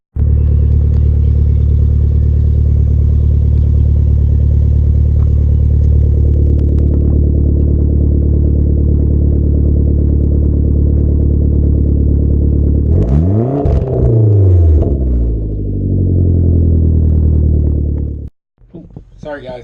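A modified Hyundai Genesis Coupe's exhaust holds a loud, steady idle rumble, then is revved in a few sharp rising and falling bursts before cutting off abruptly.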